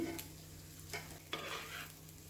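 Carrot rice with coriander being stirred in a pan, a few scraping stirs over a faint, steady background hum, with no voices.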